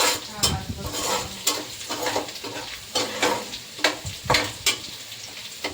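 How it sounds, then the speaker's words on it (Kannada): Garlic fries in oil and butter in a pan with a steady sizzle, broken by repeated scraping knocks of a spatula stirring against the pan, heard close with no talking. "ಹಾಗೇನೆ ಬೆಳ್ಳುಳ್ಳಿ ಚೆನ್ನಾಗಿ ಫ್ರೈ ಆಗ್ತಿದೆ."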